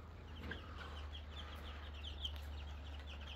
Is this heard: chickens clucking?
yes